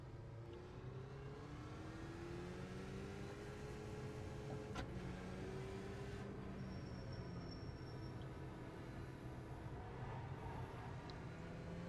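Steady engine drone from a car in a sim racing video game during a summer series race night, with slowly rising and falling tones as another car approaches, faint and continuous with no talking.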